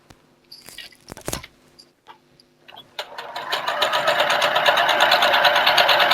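A sewing machine stitches down the two short sides of a piece, starting after a few clicks and handling noises, then running as a fast, steady whir that stays loud and close until the end.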